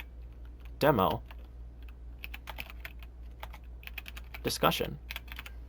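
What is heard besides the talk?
typing on a computer keyboard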